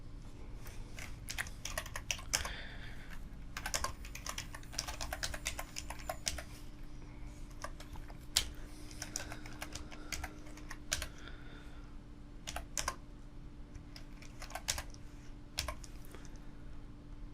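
Keys clatter on a computer keyboard in irregular bursts of quick taps with short pauses, close but quiet over a steady low hum and no talking.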